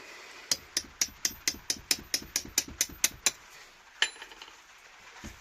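A hammer striking a drift lodged in a Suzuki FZ50 moped engine: about eleven sharp metallic blows in a quick steady rhythm, then a pause and one final hit, close and loud.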